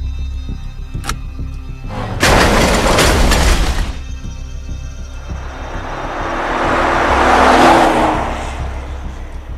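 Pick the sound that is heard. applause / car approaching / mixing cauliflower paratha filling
car approaching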